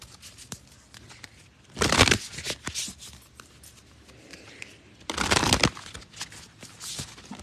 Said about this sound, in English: I'm going to stop shuffling now